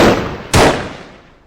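A single sharp gunshot cracks out on a shooting range, loud and close, with a long echoing decay trailing away afterward and another shot's tail fading at the start.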